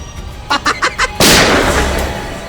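A quick series of four sharp bangs rings out, followed by a louder blast that decays into a rough, noisy tail.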